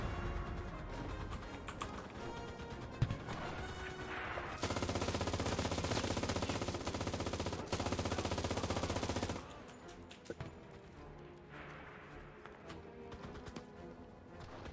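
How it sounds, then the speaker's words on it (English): Sustained automatic gunfire from a World War II machine gun in the online shooter Enlisted, a dense loud burst lasting several seconds among scattered battle noise and sporadic shots. "the best way to take out one of these machine guns is to use a tank"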